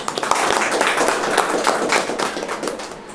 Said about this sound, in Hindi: तो क्यों ना हम परमेश्वर के वचन के लिए जोरदार ताली बजाते हैं।